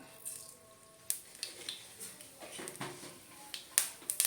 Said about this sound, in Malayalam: കടുകെല്ലാം പൊട്ടിട്ടുണ്ട്.